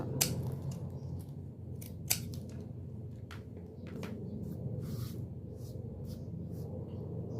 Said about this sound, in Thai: การตัดเราจะใช้กรรไกรซิกแซกนะคะ